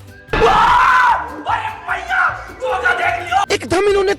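A cartoon black cat lets out a loud, drawn-out shriek of shock, followed by shorter yelling cries and a final sharp outburst.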